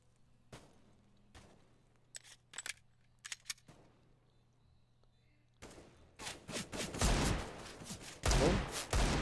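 Gunshots in Counter-Strike on the Inferno map: a few faint, scattered clicks and pops early on, then a loud rapid burst of fire and impacts in the final seconds.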